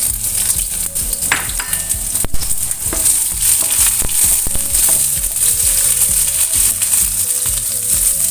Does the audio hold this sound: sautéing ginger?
yes